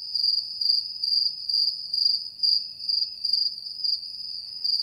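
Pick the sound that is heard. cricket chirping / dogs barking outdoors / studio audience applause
cricket chirping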